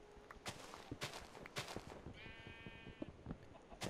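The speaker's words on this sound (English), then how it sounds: "Can I jump on the sheep?" Sheep bleating in the video game Minecraft, a brief wavering bleat partway through amid clicks and game sounds.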